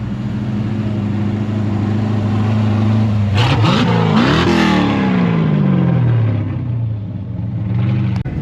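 A big stroker V8 in a car at a hot rod tour event idles with a deep rumble, then blips and revs sharply a couple of times before winding back down to a loud, steady idle.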